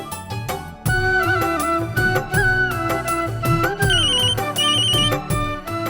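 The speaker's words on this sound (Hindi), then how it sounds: "अरे माँ का फोन।" A phone rings with a bright, melodic ringtone, loud and close, playing a repeating tune for several seconds without any talking over it.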